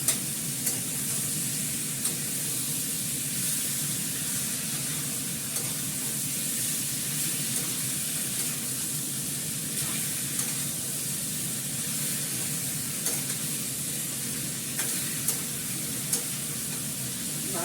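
Meat sizzles steadily in hot oil as it is stirred, a dense continuous frying hiss with occasional scrapes, close and fairly loud throughout with no talking.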